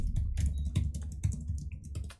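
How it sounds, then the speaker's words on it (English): Quick typing on a computer keyboard while writing code, with close, crisp key clicks in an irregular rhythm and no talk. "except I'm typing out for some reason"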